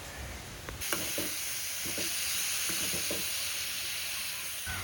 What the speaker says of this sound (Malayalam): മസാലയൊക്കെ ഒന്ന് മൂത്ത് കഴിഞ്ഞിട്ട് നമുക്ക് തക്കാളി ഉണ്ടല്ലോ അതും കൂടി ചേർത്തിട്ട് മിക്സാക്കി വേവിച്ചെടുക്കാം